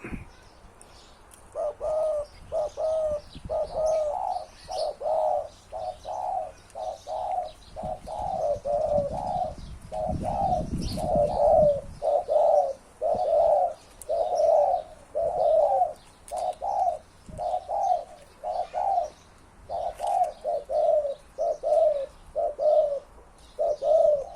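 A spotted dove coos over and over in a steady, rhythmic series of soft, mellow notes close by, with a brief rustle of wind midway.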